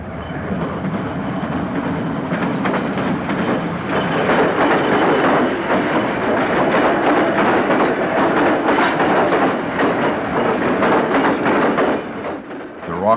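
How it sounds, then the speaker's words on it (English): Loaded coal unit train cars roll steadily past on a railroad line, a loud continuous rumble with rhythmic clatter of wheels over rail joints that eases near the end. "All the while, the coal cars kept rolling by."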